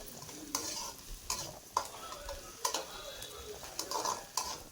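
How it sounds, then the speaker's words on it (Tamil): Onions sautéing with salt in a pan, a soft continuous sizzle with regular scraping strokes of a spoon stirring every half second or so, close by. "கொஞ்சம் நல்லா உப்பு போட்டு வெங்காயத்தை வதக்கி விட்டுறலாம்."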